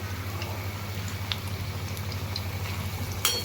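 Pumpkin pieces coated in rice flour frying in hot oil, a steady close bubbling sizzle with faint crackles and a low hum underneath, with no voices.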